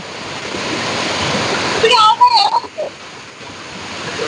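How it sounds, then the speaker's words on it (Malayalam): A hidden waterfall in Kottayam district, Kerala, roars as a steady broadband rush throughout, with voices briefly speaking over it midway. "വെള്ളച്ചാട്ടം അടിപൊളിയാ"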